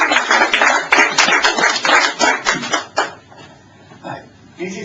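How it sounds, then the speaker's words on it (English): Audience applause after a speaker is introduced at a bookshop talk event, a dense burst of clapping from a crowd that fades out after about three seconds, followed by quieter room noise and a brief rustle. "Can I please have a big round of applause for David Farrant?"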